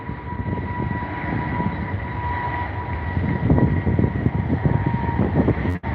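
Aer Lingus airliner on runway 27R at London Heathrow rolls with a steady jet roar and a sustained high engine whine, loud and fairly close, with a broad rumbling wash underneath.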